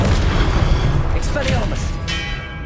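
A Confringo spell explosion in Hogwarts Legacy, a short deep boom with scattered crackling pops. A voice talks over the blast.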